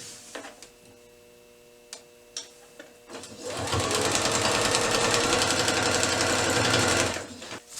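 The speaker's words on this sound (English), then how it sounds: "flip it over, and we are going to sew along this line." A sewing machine stitches a paper pieced quilt seam, a few isolated clicks and taps at first, then a loud, close, steady mechanical rattle of rapid stitching for several seconds before it stops.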